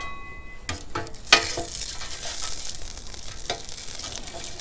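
Olive oil sizzling on a hot Blackstone griddle, a loud hissing fry that flares with a sharp crackle and then settles into a steady sputter, with a few clinks of a utensil and no talking.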